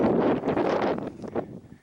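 Strong gusts of wind buffet the microphone with a loud, roaring rumble that rises and falls, close and constant throughout, on a cold mountain hike near Hallett Peak, Estes Park.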